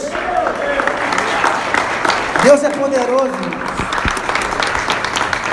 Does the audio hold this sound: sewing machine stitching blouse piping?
no